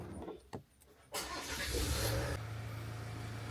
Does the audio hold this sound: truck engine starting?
yes